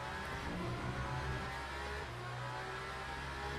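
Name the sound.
racing car engine from a video game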